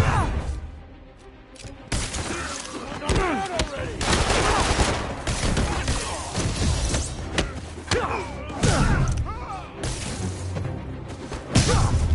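Rapid gunfire and heavy thuds from a fight in the video game Marvel's Spider-Man, loud and near, with dense bursts of shots and crashes running nearly throughout and a shouted voice mixed in.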